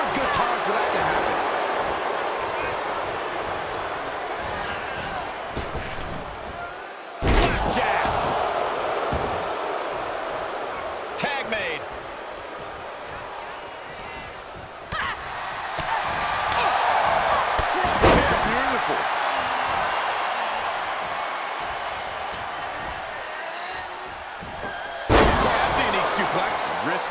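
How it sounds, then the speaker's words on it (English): A thunderous powerbomb in the WWE 2K23 wrestling game lands as a few loud, sharp slams that punch through a steady roar of arena crowd noise, with a commentator talking across it. "Thunderous powerbomb"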